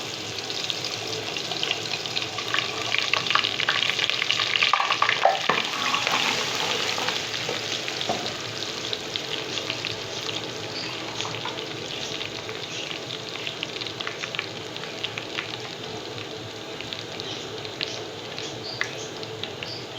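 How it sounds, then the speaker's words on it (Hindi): Chopped garlic fries in hot oil in a pan for aloo palak, a steady close sizzle with soft stirring and scraping over twenty seconds, louder early then settling into an even crackle. "तेल हमारा गरम हो चुका है, इसमें मैं लहसुन डालने वाली हूँ, चॉप करके रखी हुई है जो।"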